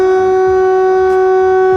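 A warning siren wails as a steady, loud sustained tone with strong overtones, holding constant throughout.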